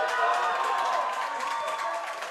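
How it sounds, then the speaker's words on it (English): A crowd at a racquetball match breaks into steady, dense applause with some cheering. The sound stays evenly loud throughout and comes from a large audience in an arena. "Crowd showing their love again as Acuña steps out on the court"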